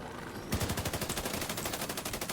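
Rapid automatic gunfire in Division 2 rattles out as a fast, steady stream of close, loud shots that starts abruptly and runs without a break.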